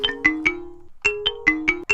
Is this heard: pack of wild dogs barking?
no